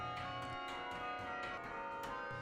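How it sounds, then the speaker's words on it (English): Chime bells of the 21-bell McGraw Clock Tower at Cornell University ring out in several overlapping strikes, their bright metallic tones and long humming overtones sustaining steadily with no voices. "the tolling chimes in the McGraw Clock Tower have provided a reassuring heartbeat to campus life at Cornell University."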